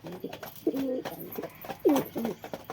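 Two pigeons kept at a house give low, throaty coos, each a short rolling phrase, close by with quiet gaps between.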